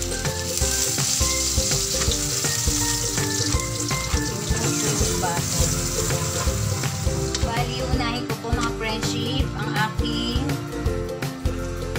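Cooking oil and a little butter frying steadily in a pan for caldereta, a dense continuous sizzle, loud and close, with some clinks near the end.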